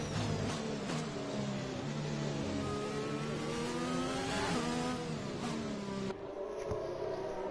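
Racing cars in a sprint race video game at Britain, an Alpine chasing a McLaren, engines whining and revving steadily with rising and falling pitch as they shift gears, loud and continuous with no talk.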